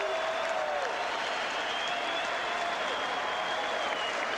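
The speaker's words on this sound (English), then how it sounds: "can we get a nice round of applause for both of these boxers?" Crowd applause for two boxers in the ring before the judges' scorecards are read, a steady wash of clapping and cheering with a faint whistle-like tone running through it.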